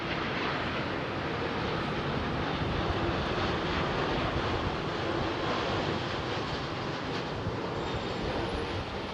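A Boeing 787 Dreamliner passes near a busy London airport, its engines making a loud, steady broadband roar that holds constant throughout without fading.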